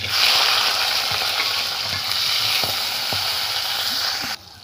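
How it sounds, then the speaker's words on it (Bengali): Flat beans fry in oil in a wok, producing a loud, continuous hissing sizzle close up, with occasional soft knocks of stirring, until it cuts off near the end. "ওই একই তেলে এবার আমি ভেজে নেব সিমগুলো।"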